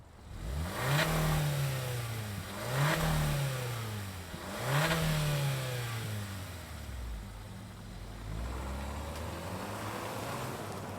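A 2024 Hyundai Kona Limited with all-wheel drive revs its engine in three swelling bursts, then settles into a steadier drone as it pulls away, heard moderately close with no talking.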